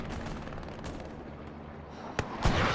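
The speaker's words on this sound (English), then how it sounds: "the Panzer IV is being shot at by a heavy tank" A heavy tank fires on a Panzer IV in the Hell Let Loose battlefield game, the rumbling combat backdrop broken by two sharp, loud cannon blasts near the end, the second heavier and trailing off.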